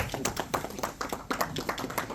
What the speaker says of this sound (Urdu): زوردار تالیوں کے ساتھ پلیز.